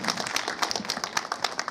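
An audience at a village panchayat government event gives a short burst of crowd applause for the chief guest. The clapping is dense and rapid, with sharp individual claps audible throughout.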